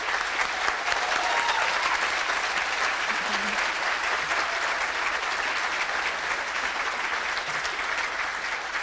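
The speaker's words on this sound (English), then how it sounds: "I think if we could give them a round of applause for being here." Guests at the Air Force Enlisted Village 50th Anniversary Ball applaud young airmen in the room: a continuous, full wash of clapping from a large banquet crowd, steady in level from start to finish.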